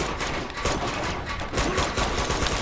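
Gunfire from a pump-action shotgun in the video game Uncharted 2: Among Thieves, a dense, continuous battle of shots and blasts filling the scene at steady loudness.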